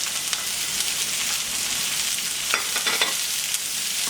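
Onion and pepper sautéing in hot oil in a pan, a steady dense close sizzle throughout with a few sharp pops and stirring clicks near the end, no speech.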